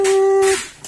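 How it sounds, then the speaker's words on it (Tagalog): A Honda ADV150 motorcycle fuel pump primes with a steady electric whine for about half a second, then cuts off abruptly, leaving quiet background with a faint click. "yun po yung tunog ng fuel pump."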